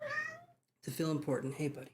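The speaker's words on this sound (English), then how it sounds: "That's the cat." A house cat gives one drawn-out meow close by, followed by a short silence and then a person speaking indoors.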